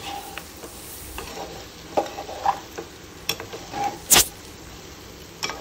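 Restaurant-style chicken fry being stirred in a hot pan: a steady sizzle broken by irregular scraping and clinking strokes, heard up close.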